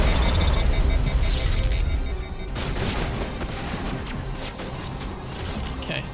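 Gunfire in a Mass Effect firefight, a dense loud barrage with a booming low rumble that thins into scattered sharp shots and mechanical clatter, heard close and continuous throughout.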